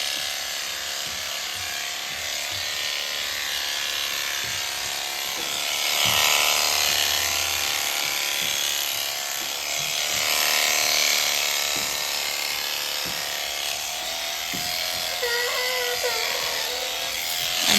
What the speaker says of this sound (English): just taking off a couple of clipper blades width across the top line